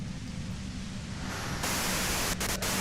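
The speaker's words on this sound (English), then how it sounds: "If you've got something really important to say, you can do it through the white noise." Steady hiss of radio static from a radio in the Disco Elysium video game, a continuous broadband wash that grows brighter partway through, with a few faint clicks near the end.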